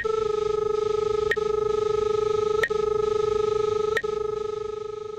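An SR-20 line tracer emits a steady electronic feedback tone whose pitch follows the proximity signal. It is a clean, sustained hum with bright overtones, broken by three sharp clicks at regular intervals, and no voice is heard.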